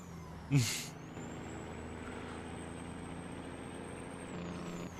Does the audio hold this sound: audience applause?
no